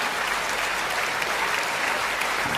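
An audience at a Hindi kavi sammelan poetry recital claps in a dense, steady burst of applause that fills the room without a break.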